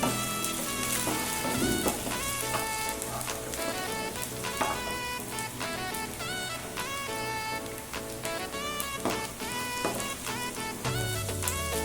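Ingredients for beetroot thuvaiyal roast in a pan with a steady, soft crackling sizzle that stays quiet throughout, under tonal background music.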